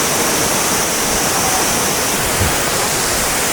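Kuang Si waterfall in Laos roars as a loud, unbroken broadband wash of falling water, steady and close throughout with no voices.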